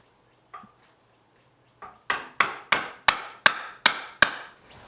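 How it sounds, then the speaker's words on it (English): Sharp wooden knocks from a homemade wooden mallet striking a wood stump: two isolated taps, then a steady run of seven loud, evenly spaced strikes, each with a short ringing decay. "Here's my mallet that I made in my first class. It's my hammer now."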